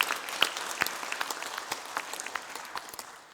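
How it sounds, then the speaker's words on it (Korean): Church congregation clapping during a Sunday worship service, a sparse patter of hand claps at moderate distance, fairly quiet and steady, without voices over it. "박수로 한번 하나님께 영광 올려드립니다."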